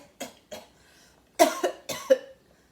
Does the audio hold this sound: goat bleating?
no